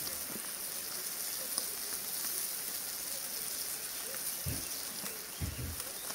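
Steady rain pattering outdoors, a constant broadband hiss of drops on surfaces with a few brief low thumps, heard without talk.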